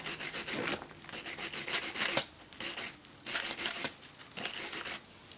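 Rust is scrubbed off the threads of old brake hardware from a 2004 Chevy Impala, heard as close, quiet bursts of rough back-and-forth scraping that stop and start in short rhythmic strokes.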